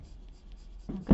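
A charcoal pencil colouring on paper for a festive card, soft quiet scratching strokes that build into a couple of louder, closer scrapes near the end, with no talk.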